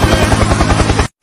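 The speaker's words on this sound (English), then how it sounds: "Helicopter, helicopter!" Helicopter meme sound effect: a loud, close rotor chop beats in a fast, even rhythm for about a second, then cuts off abruptly into silence.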